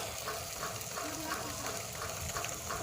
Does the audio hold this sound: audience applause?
no